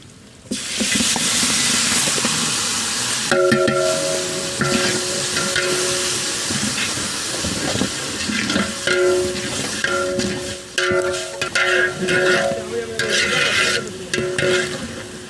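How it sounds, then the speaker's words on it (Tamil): A homemade masala paste of tomato, green chili and bay leaf fries loudly with onions in a pan for a chicken biryani. It sizzles and hisses continuously at close range, broken by repeated scraping stirs. "மசாலா நல்லா டீப்பாக ஃப்ரை ஆகிடுச்சு"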